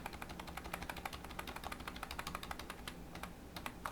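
Rapid, steady clicking of computer keyboard keys being pressed, including a repeated Ctrl+D shortcut, in a graphic design program, close and continuous with no talking.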